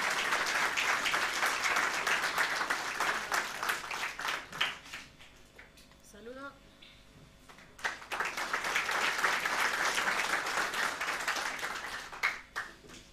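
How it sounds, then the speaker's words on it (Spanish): Audience in a Sunday church service applauding to welcome a choir: loud sustained clapping for about six seconds, a brief lull, then strong applause again to the end. "vamos a recibir, por favor, con fuertes aplausos al coro Nueva Alegría."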